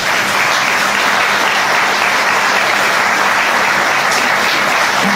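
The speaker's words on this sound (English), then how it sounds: "And I'd like you all just give Willie a round of applause." At a 25th anniversary ball, a large audience in a hall gives sustained, loud, dense applause that continues unbroken throughout.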